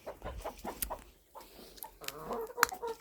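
Chickens cluck close by in a village poultry yard, with short, irregular clucks and chirps overlapping amid faint farmyard background noise.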